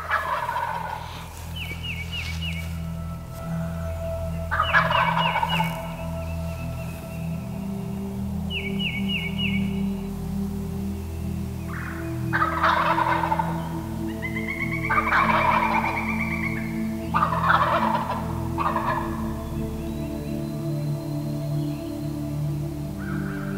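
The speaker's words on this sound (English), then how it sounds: "when you hear turkeys gobbling" Wild turkey toms gobble in repeated bursts across a quiet outdoor backdrop, some calls nearer and louder, with a low steady hum underneath.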